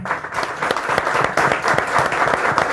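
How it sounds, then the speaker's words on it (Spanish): An audience claps for health workers at a talk with an epidemiologist at a Senate library, a steady close burst of dense hand claps lasting a few seconds with no voices over it. "se merece un fuerte aplauso todos por el gran trabajo que han realizado"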